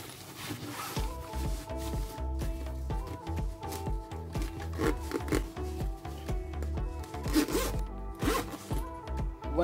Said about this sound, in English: Now we have to zip it from both the sides.